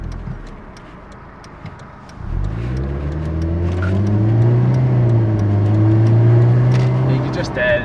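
A Mercedes SLK 200 with a supercharged 1.8-litre engine revs up from a low idle around two seconds in, its exhaust swelling into a loud, sustained drone that rises and falls while the car pulls away.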